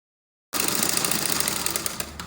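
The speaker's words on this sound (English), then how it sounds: "Set your machine on a gather stitch and just run a gather like this." A sewing machine set to a gather stitch runs a continuous fast rattling stitch while a balloon sleeve is sewn. It starts abruptly after a short silence and stays steady and close for about two seconds.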